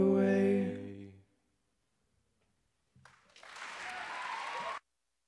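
An audience bursts into applause after a talent show performance, the clapping rising from silence and holding steady for a couple of seconds; the end of a sung, sustained musical note fades out before it.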